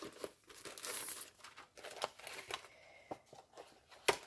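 A paper package holding rubber stamps is torn open and unwrapped, with crinkling, rustling paper and sharp little rips and taps, close and quiet, with no talking.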